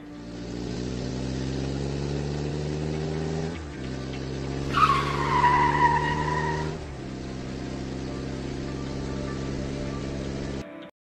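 Toy Camaro car in a stop-motion effect: a long steady engine drone, broken by a sharp, loud tire screech skid in the middle, then the drone resumes and cuts off abruptly.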